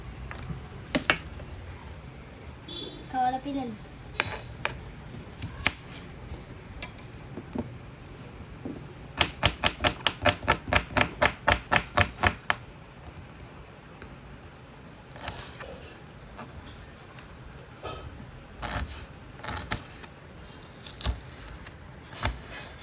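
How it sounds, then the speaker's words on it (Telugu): Onions finely chopped with a knife on a cutting board, heard as a quick, even burst of about a dozen close, crisp taps mid-way, framed by scattered single knocks and light kitchen handling noise. "పొడి పొడి కట్ చేసుకోవాలి."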